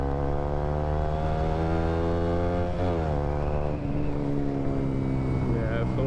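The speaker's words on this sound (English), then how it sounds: "Yeah, it's a lovely sounding bike for a 125." A KTM RC 125cc four-stroke motorcycle, its Akrapovic exhaust run with the baffles removed, drones loudly up close at a steady pace, with a brief shift in engine pitch partway through.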